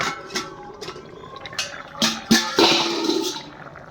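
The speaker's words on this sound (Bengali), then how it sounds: "দেখুন তরকারিটা এখন ফুটে যাচ্ছে, ফুটে গিয়েছে।" A pot of curry bubbling on the stove, with irregular watery gurgles and soft splashing bursts that grow fuller toward the end, close and moderately loud with no talking.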